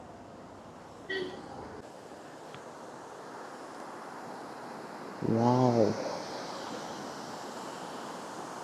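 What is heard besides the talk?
small roadside waterfall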